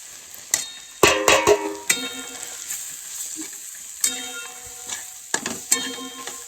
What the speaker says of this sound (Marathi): आता आपण टाकणार आहे कांदा, लसूण, मिरची पावडर, धना पावडर आणि आपला सुहानाचा बिर्याणी मसाला.